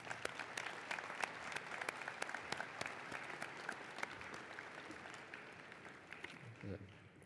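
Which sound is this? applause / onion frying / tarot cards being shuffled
applause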